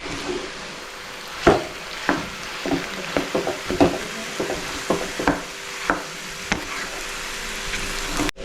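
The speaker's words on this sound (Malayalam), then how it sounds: "നമുക്ക് ഉരുളക്കിഴങ്ങത്തിന് ഇത് മിക്സ് ചെയ്തെടുക്കാം" Boiled potatoes being mixed with salt for aloo paratha, a series of distinct scraping and tapping strokes of a spoon or spatula against a bowl at an irregular pace, close and fairly clear over a faint background.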